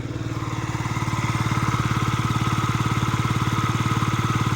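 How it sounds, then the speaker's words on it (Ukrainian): A Yamaha Jog SA-36 fuel-injected scooter engine idling close by, a quiet, smooth and even putter with a regular rapid pulse that holds steady throughout, with no talking. "Двигунчик також тихенько рівненько працює."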